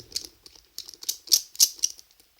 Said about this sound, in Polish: Następnie odkręcamy 1, 2 czy 4 śrubki gwiazdkowe